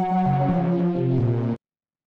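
A distorted, warm synth patch in the style of the Annihilation film score sustains a rich harmonic chord for about a second and a half, loud and close, then cuts off abruptly into silence.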